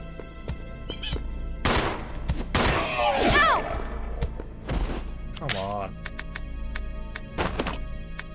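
Bursts of video game gunfire from Resident Evil 0 crack out in several loud volleys with dull thuds between, layered over game sounds while someone talks throughout.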